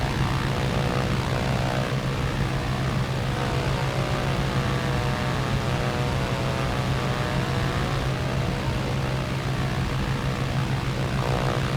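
A propeller aircraft comes in to land on a runway during a combat flight video game, its steady engine drone and low hum continuous and fairly loud throughout with no voices.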